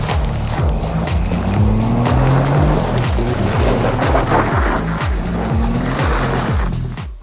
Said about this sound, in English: we're going for a Jeep ride